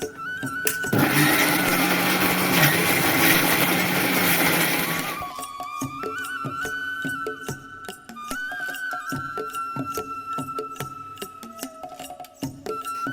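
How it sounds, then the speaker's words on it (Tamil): A kitchen mixer grinder grinding chopped ginger and garlic. It runs as one loud continuous whir for about four seconds, then cuts off, leaving quieter clatter and a faint hum. "இந்த இஞ்சி பூண்டெல்லாம் வெட்டி மிக்சரில் போட்டு எல்லாத்தையும் ஒன்றா அரைச்சிடுவேன்."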